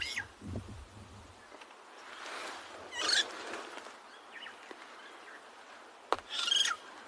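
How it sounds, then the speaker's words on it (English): Starlings and other birds calling at a dam at sunrise on a cool, damp morning: scattered chirps and brief bursts of calls from varying distances over a quiet outdoor background, with a few sharper nearby notes. "All the birds are calling now."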